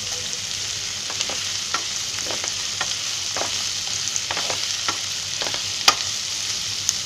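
Sliced onion fries in a pan with a steady, loud sizzle and occasional crackling pops and stirring scrapes throughout, with no voices.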